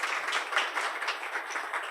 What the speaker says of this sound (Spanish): Le pido un aplauso también para nuestros panelistas.